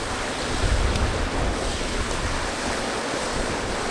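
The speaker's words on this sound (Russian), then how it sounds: "Ну что, вот этот маленький водопадик второй." A small Arctic waterfall at Teriberka rushes in a steady, broadband hiss of falling water, constant and fairly close, with no voices.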